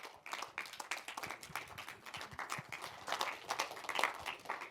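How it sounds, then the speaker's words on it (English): An audience at a Munich film talk applauds the filmmakers, a fairly faint spread of clapping that builds slightly and carries on steadily. "Please applause for director Sonia Otto, the editors Karoline Schulz and Finbarr Wilbrink."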